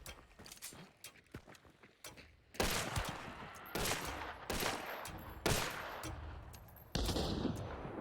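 An enemy in a video game shoots at the player in several loud bursts of gunfire, each lasting about a second, separated by short pauses, with quieter shots and movement before them.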